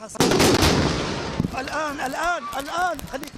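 A missile strike explodes in Gaza, a sudden loud blast followed by a roaring rumble, then shouting and screaming voices take over as the noise fades.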